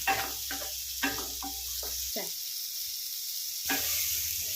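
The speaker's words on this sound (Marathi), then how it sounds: "अद्रक आणि लसूण हे 4 ते 5 मिनिट फ्राय करून घ्यायचे आहे" Ginger, garlic and onion fry in oil in a pan on medium heat, a constant bright sizzle with intermittent stirring scrapes and a low hum that drops out midway, close and fairly quiet.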